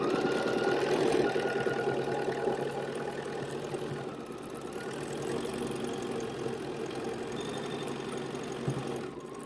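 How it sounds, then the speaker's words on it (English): A sewing machine stitches along the edge of a scrappy fabric coaster, its motor running in a steady rapid chatter for several seconds, close and fairly loud, slowing slightly near the end, with no voices. "And sewing down along the edge."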